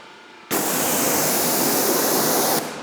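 A loud burst of water spray rinsing a Mercedes-AMG GT hisses steadily for about two seconds, then cuts off abruptly, close by.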